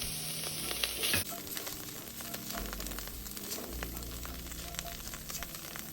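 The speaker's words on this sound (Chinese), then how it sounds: "再將瀝乾後的蝦米加入一起爆香" Drained dried shrimp hitting hot oil in a wok, a brief loud splash followed by steady crackling sizzle and stirring scrapes, close and continuous with no talk.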